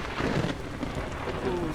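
A thunderstorm with lightning rages in a roleplay-server video game, steady rain hiss and low rumbling thunder rolling on without pause at moderate loudness, with faint voice-like sounds underneath.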